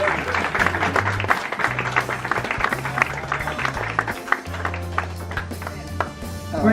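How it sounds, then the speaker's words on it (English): Audience applause for an award at a drive-in theater film festival, steady crowd clapping sustained over several seconds beneath a low musical tone, with a few voices mixed in. "a round of applause"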